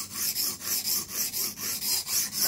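A super steel knife scrapes in steady, repeated strokes across a coarse, fast-cutting Blitz 360 sharpening stone, each rasping pass loud and close with brief gaps between strokes.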